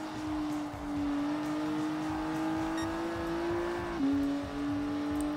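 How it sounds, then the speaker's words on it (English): Racing cars in Gran Turismo Sport with a steady high tire squeal over droning engine noise, the pitch dipping briefly as the car shifts, loud and continuous without speech. "The tire screeching."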